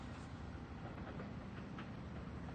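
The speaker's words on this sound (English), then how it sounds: "And there's our trains for Saturday morning here at Speonk." Long Island Rail Road diesel passenger trains pulling six-car Kawasaki C3 bi-level coach sets sit at Speonk station on a Saturday morning, giving a steady low rumble and engine drone with faint clicks, close and continuous.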